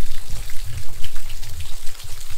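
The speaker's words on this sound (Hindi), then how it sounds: "उठते ही मैं देखती हूँ बारिश हो रही है" Monsoon rain pours down in Northeast India, loud and close, a dense continuous patter of drops splashing on surfaces with no speech.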